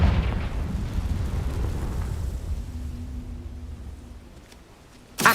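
A Confringo spell blasts in Hogwarts Legacy, a loud rumbling boom that decays slowly into a low, fading roar, ending with a sharp burst.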